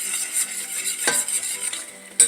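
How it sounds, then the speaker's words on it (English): Flour being stirred and toasted in a hot pan makes a continuous scraping, sizzling hiss, with occasional utensil knocks against the pan and a sharper clink near the end. "I'm going to stir that around, kind of cook the flour"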